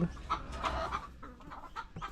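Hens cluck softly and repeatedly inside a chicken coop where some have just laid eggs, several short close calls in an irregular rhythm, fairly faint.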